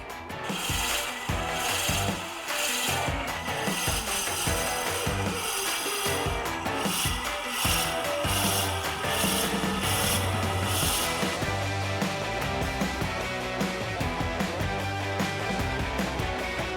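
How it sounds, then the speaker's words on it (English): Steady grinding, rasping Forstner bit cutting into wood at low RPM, continuous and close, with a brief change in tone partway through; no voices. "I'll leave this at low RPMs for safety and slowly drill out the hole for this stick"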